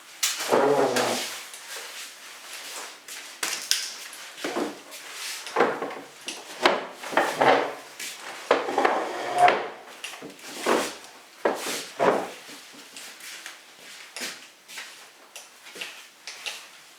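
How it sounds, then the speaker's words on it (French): Wooden chairs being set back around a Christmas dinner table, giving a series of close, irregular knocks and scrapes over about seventeen seconds with no talking. "Je vais juste remettre les chaises pour que vous voyez bien à quoi elles ressemblent."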